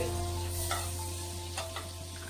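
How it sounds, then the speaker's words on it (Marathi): Vegetables such as corn and capsicum sautéing in butter in a kadhai for white sauce pasta, giving a steady sizzle with a few stirring scrapes, close and moderately loud, with a low hum underneath and no talking. "आता बटर टाकून घेते थोडं. आता आपल्याला भाज्या थोड्याशा परतून घ्यायची आहे"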